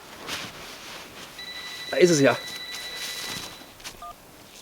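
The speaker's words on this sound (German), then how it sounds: "Telefon." A telephone rings indoors during a German news-style show about the sport of jugger, heard as a steady, thin electronic tone lasting a couple of seconds while someone talks over and around it.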